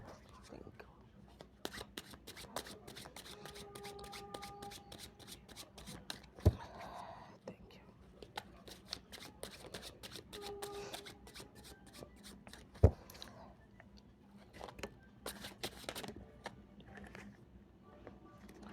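Tarot cards shuffled during a reading: repeated crisp riffling and snapping card sounds in uneven bursts, close and fairly quiet, with soft talk and a couple of sharp knocks in between.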